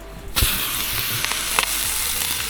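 Food sizzles and spits steadily while frying over a campfire at a remote beach camp, a loud continuous crackle with a few sharper pops, close up with no talk.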